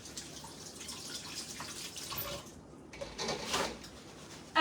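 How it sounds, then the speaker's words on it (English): Hands washed under a running kitchen tap, water splashing and trickling steadily with a brief pause, then a louder gush and a clunk at the end. "Let me wash my hands really quick."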